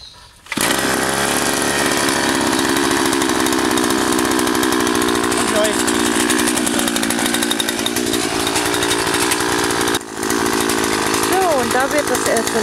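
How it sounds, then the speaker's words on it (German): A petrol earth auger with an aging centrifugal clutch drills a hole in garden ground for a zucchini trellis, its two-stroke engine roaring loud and steady at close range, with a brief dip near the end. "Da wird das erste Loch gegraben. Das Erdbohrer."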